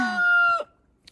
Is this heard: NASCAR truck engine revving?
no